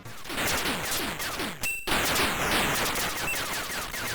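Atari ST shoot-'em-up weapons fire of multi-directional shots, rockets and lasers, a dense continuous barrage of rapid synthetic blasts and descending zaps with a brief ringing tone partway through.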